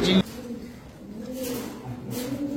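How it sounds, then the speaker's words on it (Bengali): Several pigeons coo softly in a crowded loft, low repeated burbling calls close by, with a brief noise at the start and faint background sounds. "প্রচুর কবুতর ভাই, আজকে ঘর ভরা কবুতর"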